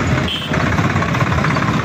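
Tractors rolling past in a farmers' tractor rally, a steady dense rumble of engines close by with broadband roar and no gaps.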